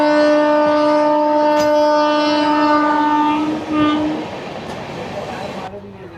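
A Jan Shatabdi passenger train running between Nasik and Mumbai sounds a long, loud, steady horn blast for about four seconds, then the horn stops and the rolling rumble and rattle of the moving coaches carry on alone.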